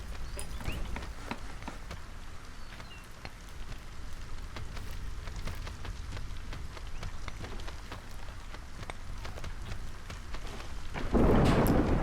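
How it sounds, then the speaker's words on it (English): A thunderstorm rolls in within the video game Against the Storm: steady heavy rain with low rumbling thunder throughout, building to a louder crash near the end, with no talking. "Here comes the storm."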